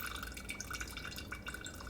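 Homemade coconut rum dripping through a filter, a steady patter of small, quiet drips of liquid falling in quick succession without pause.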